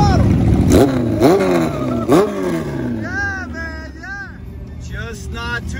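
An old-school Kawasaki KZ motorcycle at a bike fest street scene in Ocean City, its engine blipped in a few sharp throttle revs that rise and fall, loud and close, with crowd chatter and other passing engines around it.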